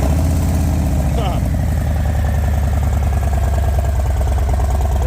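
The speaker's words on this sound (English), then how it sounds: "Same exact motor as this 2023 Lowrider ST that we put a Bassani head pipe exhaust on." A loud, deep 2023 Harley-Davidson Low Rider ST engine with a Bassani head pipe exhaust idles with a heavy, rumbling, lopsided throb that runs steadily throughout, close by.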